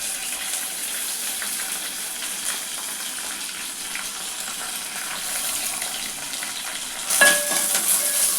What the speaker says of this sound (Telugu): తర్వాత కరివేపాకు చిటపట్లు ఆడుతుంటే మనం వెంటనే ఎండుమిరపకాయలు వేసేసుకోవాలి.